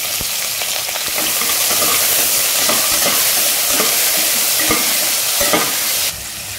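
Chopped onions and green chilies fry in a hot pan for Bengali lau ghati. A loud, continuous sizzle is broken by repeated stirring scrapes and clacks, and the level drops slightly at the very end.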